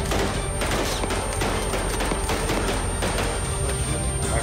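Gunfire in the military simulation game ARMA 3, heard as dense, continuous volleys of shots over a constant loud background roar with no pauses.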